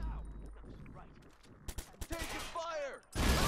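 Gunfire in the Watch Dogs video game, with a few sharp shots and a burst of fire mixed with in-game sounds and a voice, ending in a loud, noisy blast.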